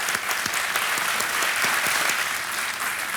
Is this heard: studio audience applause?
yes